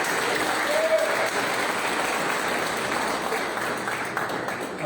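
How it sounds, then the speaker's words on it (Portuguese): Church congregation applauding during a Wednesday evening worship service, a steady, even roar of many hands clapping that holds throughout at moderate loudness, with no speech over it. "Aplauda mais forte"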